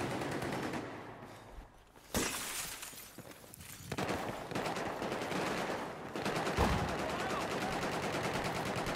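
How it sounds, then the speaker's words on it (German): Battlefield 4 team deathmatch gunfire: close, sharp automatic bursts and single shots, with a glassy crack and a continuous, dense firefight filling the later seconds. "Da vorne schießt einer."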